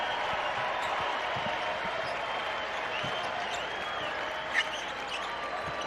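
A crowd rises and applauds the Boise State Broncos at an NCAA men's basketball game against Utah State. The cheering is faint and distant, with a steady roar and a brief louder burst near the end.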